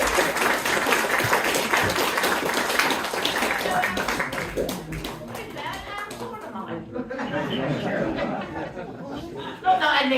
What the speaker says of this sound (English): warm round of applause, come all the way from Kent,